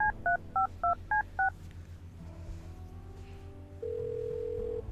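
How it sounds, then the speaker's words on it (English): Telephone number dialed in the video game Kathy Rain 2: six crisp touch-tone beeps in quick succession, then a steady ringing tone over a low background hum. "phone here, make a call."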